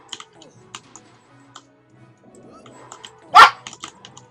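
A dog barks once, loud and close, amid soft computer keyboard typing and faint room noise.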